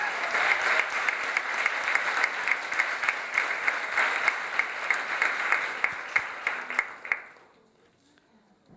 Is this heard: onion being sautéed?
no